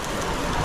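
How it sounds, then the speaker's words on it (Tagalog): Steady rain pours down in a dense, continuous hiss, close by and fairly loud, with no voices over it. "tinabot na po kami ng ulan"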